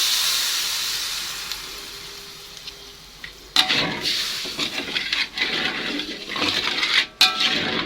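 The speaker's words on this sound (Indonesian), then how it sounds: "ini bumbunya udah matang, langsung saja mau saya tuangkan air." Water poured onto hot cooked seasoning paste for seblak bursts into a loud steamy hiss and sizzle partway through, crackling and bubbling unevenly after a quieter sizzling start, with no talking.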